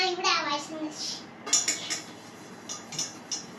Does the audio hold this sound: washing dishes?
yes